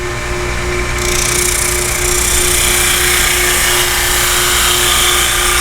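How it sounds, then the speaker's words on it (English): A loud, steady mechanical drone with a constant hum and a rough abrasive hiss from a 16-32 drum sander grinding wood continuously. "Same piece of wood, didn't move the adjustment. Sanding it."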